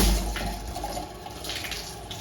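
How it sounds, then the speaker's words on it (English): Water gushes steadily from a household faucet just after the supply is turned back on, with air still in the lines; a loud, continuous rushing hiss close by with no voices. "Okay, so I just turned the water back on"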